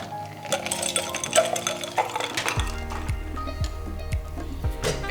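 A mojito with crushed ice poured and served into a glass: bright clinks and rattling ice, then a rhythmic series of low thumps repeating about every half second, close and clear.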